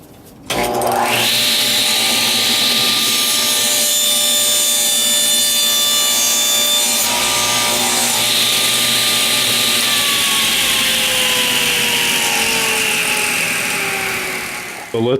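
A table saw running with a Rockler miter sled slices a big piece off a wooden board, a loud sustained whining buzz as the blade bites through the wood, its pitch sagging slightly as the cut finishes.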